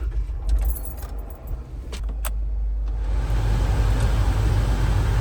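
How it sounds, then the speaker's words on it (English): Keys jangle up close before a Jeep with an overheating problem is started, and its engine settles into a steady low idle rumble that continues to the end. "we're going to turn the car on"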